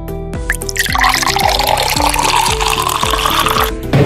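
Chilled Tanduay rum is poured as a shot from a bottle, giving a close, steady run of rhythmic glugs that lasts about three seconds, with no voices.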